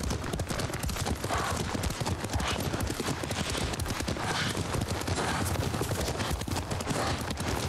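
Horse hooves clip-clop in a quick galloping rhythm in Ghost of Tsushima, continuous and fairly close, with faint game sounds around them and no clear speech.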